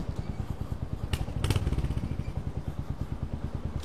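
Royal Enfield Hunter 350 motorcycle riding through town, its single-cylinder engine thumping in a steady close pulse throughout, swelling briefly around the middle with a rev and some clatter.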